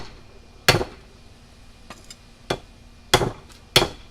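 A hammer strikes the flat end of a hot chisel being forged, five or six sharp metallic blows at uneven intervals with quiet gaps between them.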